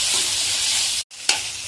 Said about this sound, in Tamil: எல்லாத்தையும் சேர்த்து நல்லா மிக்ஸ் பண்ணி ஒரு 3 நிமிஷம் வதக்கணும்.